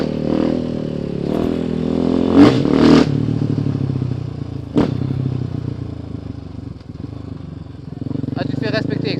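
A KTM 500 EXC-F motorcycle engine idles and revs with a rough, throaty burst or two, heard close and steady throughout, with a few sharp clattering knocks.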